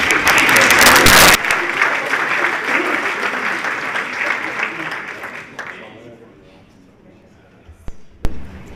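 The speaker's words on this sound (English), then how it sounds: "So big round of applause" An audience at a startup competition event in Aix-en-Provence bursts into loud applause that stays dense for several seconds and then thins out to scattered claps. A few knocks and thumps follow as the room quiets.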